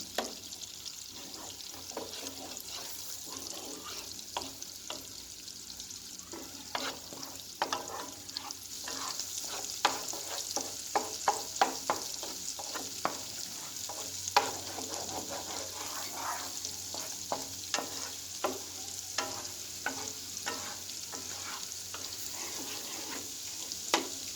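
Liver fries in sheep tail fat, Gaziantep style, with a lively close sizzle and frequent scraping and clicking from stirring throughout.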